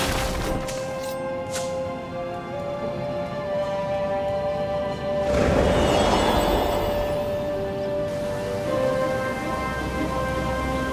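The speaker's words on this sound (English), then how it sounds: "Yeah, that's rain." Steady rain hiss in the video game Stories: The Path of Destinies, a continuous wash of falling rain that swells louder midway, with faint game music tones underneath and no talk.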